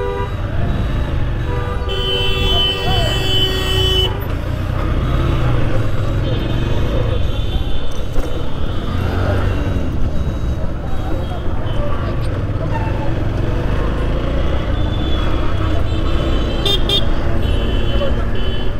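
Dense Eid-day traffic jam in Rupganj, with car horns tooting repeatedly over a steady rumble of engines while someone talks nearby throughout.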